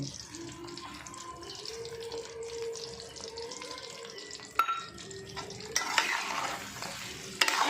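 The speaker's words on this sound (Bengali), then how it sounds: "দিয়ে কিন্তু একটু ভালো করে নাড়াচাড়া করে নিচ্ছি" Spoon stirring raw mango pickle with garlic, chili powder, turmeric and salt, soft scraping and clinks at low level, with a faint tap-like hiss and a few louder knocks near the end.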